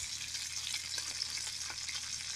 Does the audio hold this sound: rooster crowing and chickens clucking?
no